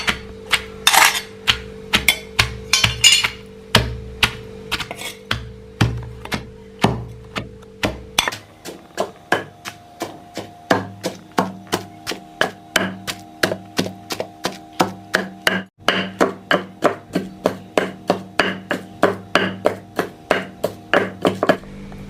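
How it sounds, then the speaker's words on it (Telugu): Nalleru (veldt grape) is pounded in a stone mortar for chutney, a steady rhythmic series of dull, hard thuds, dozens of strikes close by at an even pace, with a faint tonal hum underneath. "దంచుతాండ నల్లేరు."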